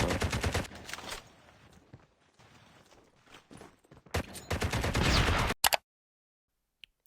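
Rapid gunfire in a tactical shooter game comes in two loud bursts, a sustained one at the start and another near the end, with quieter ambient game sound between and silence at the close.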